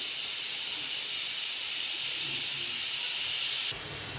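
A pressure cooker full of Bengali mutton curry vents a loud, continuous jet of hissing steam close by, which cuts off abruptly near the end and leaves a quieter hush.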